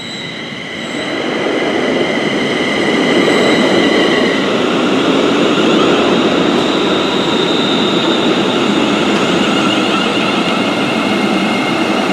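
A train pulls out of a Paisley station, building from a quiet start into a loud, sustained rumble with steady wheel and motor drone and faint squealing tones carrying throughout.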